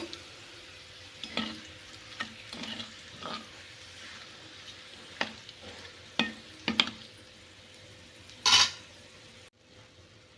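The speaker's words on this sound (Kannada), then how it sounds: "ಇದಕ್ಕೆ ಪುಡಿ ಮಾಡಿಟ್ಟಿರೋ ಅಂಥದ್ದನ್ನ ಹಾಕ್ಕೊಂಡು ಮಿಕ್ಸ್ ಮಾಡಿ" Spice powder gets stirred into mango pickle in a pan on a switched-off stove, giving quiet, scattered scrapes and clinks of a spoon against the vessel, with one louder scrape near the end.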